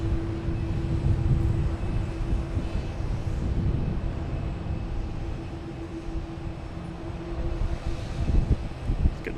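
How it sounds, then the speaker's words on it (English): Spirit airliner taking off at Boston's Logan Airport, a steady distant jet engine roar rumbling low and broad, rising slightly toward the end, with no talk. "So we got Spirit taking off here"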